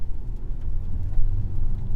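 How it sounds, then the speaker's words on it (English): Heard from inside the cabin, a 2025.5 Volvo XC90 T8 AWD plug-in hybrid SUV accelerates on a rainy road, giving a low, steady engine rumble that builds slightly as power comes in. "that engine pickup is so... the way the power kicks in, it just feels so seamless"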